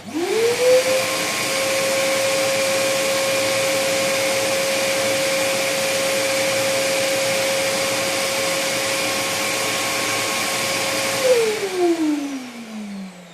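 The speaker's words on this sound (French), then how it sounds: "je vais allumer l'aspirateur, voir combien de bruit il fait à 50 cm à peu près" A loud FERREX GAWS20 wet-dry vacuum cleaner, heard from about 50 cm, whirs up to a steady high-pitched whine, runs evenly for about ten seconds, then spins down as it is switched off.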